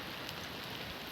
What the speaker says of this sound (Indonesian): Masih suasana hujan, mendung pun masih berlanjut